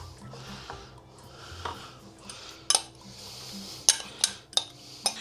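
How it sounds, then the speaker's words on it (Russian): A mixture is stirred in a pot while milk is poured in, with a quiet liquid swish under several sharp metallic clinks of a utensil against the pot. "Помешивая, вливаем молоко."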